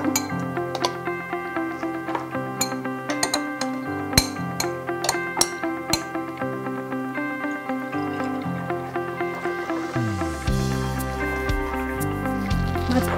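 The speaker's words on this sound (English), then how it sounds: "So I'm going to scoop my pudding into my cup first." Homemade pudding, made from premix powder, is scooped into a cup for pudding milk tea, giving soft wet squishes, drips and a light clink over steady background music.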